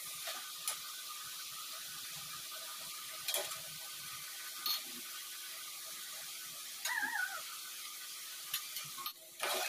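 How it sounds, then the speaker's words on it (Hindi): Chicken frying in a pan, with a continuous soft sizzle broken by occasional sharp clatters of stirring against the pan. "तो ये देखिए चिकन हमारा भुनने भी लगा है।"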